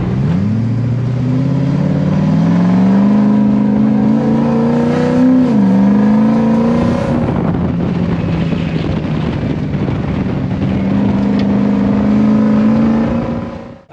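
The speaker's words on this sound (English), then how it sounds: "Just get the revs up on it, mate, and give it heaps." A Lexus 1UZ V8 in a four-seat off-road trails truck revs hard and close, its engine note climbing and dipping through steady, loud throttle blips for the whole stretch, with wind buffeting the microphone.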